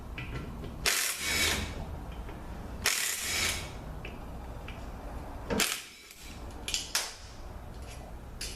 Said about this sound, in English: I'm zipping these bolts out here.